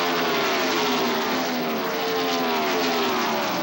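Loud, steady engine roar of a 1995 NASCAR Winston Cup race car heard from inside Dick Trickle's car at Atlanta, a dense continuous drone with shifting engine tones and no talk.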